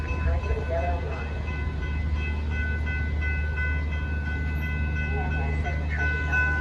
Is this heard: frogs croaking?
no